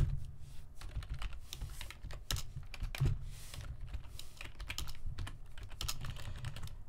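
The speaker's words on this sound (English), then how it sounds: "You may have noticed that I typed that very fast." Rapid, continuous typing on a computer keyboard during a live coding session: dense, close key clatter with steady fast rhythm and a low hum underneath, no talking.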